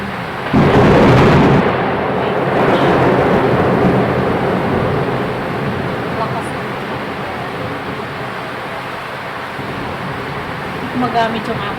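Thunder booms loudly and close in a storm with strong wind, a heavy rolling crack early that fades into sustained rumbling and wind roar, with rain-like hiss underneath.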